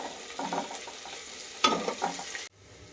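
Green chillies sautéing for puliyinchi, a Kerala Vishu sadhya dish, with soft sizzling and a few spoon-against-pan stirring clatters in short bursts, fairly quiet and close, ending abruptly.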